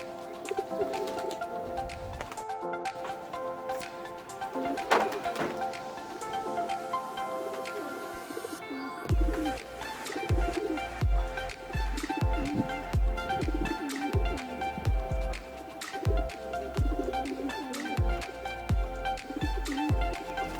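Racing pigeons coo repeatedly at a summer pooling and training site, soft rolling calls rising and falling at close to mid distance over a light background of rustling and ambient noise.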